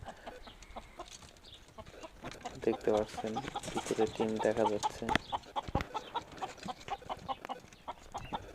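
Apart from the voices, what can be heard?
chickens clucking in a coop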